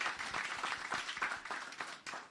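An audience at a law school lecture, held for the Caribbean Court of Justice president's keynote, claps in a brief, dense round of applause heard from within the hall.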